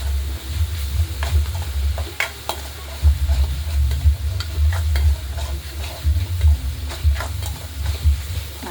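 Masala fries with salt in a pan for a fish and raw mango curry, producing a close, bubbling sizzle with soft, irregular stirring clicks throughout.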